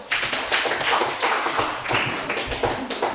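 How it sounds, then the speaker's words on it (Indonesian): An audience at an Islamic study session claps together, a dense burst of clapping with uneven taps running the whole stretch. "Kasih tepuk tangan untuk terima dulu."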